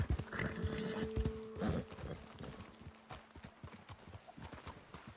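Horses' hooves clip-clop on a trail in Red Dead Redemption 2, loud and close at first with a brief whinny, then settling into a quieter, uneven walking rhythm as the riders slow.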